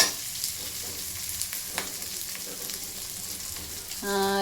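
Poppy seeds and dry coconut frying in oil in a pan for a village-style bassaru, a continuous close sizzle with light stirring scrapes, no talk.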